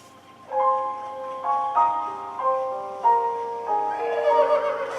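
A synthesized, musical horse whinny from The Legend of Zelda: Breath of the Wild plays in stepped tones, like a game sound effect, clear and alone with no talking.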